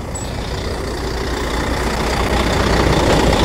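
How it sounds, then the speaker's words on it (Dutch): A truck approaches in a quiet rural area, its heavy engine a steady low rumble that grows slightly louder over a few seconds. "daar komt de vrachtwagen."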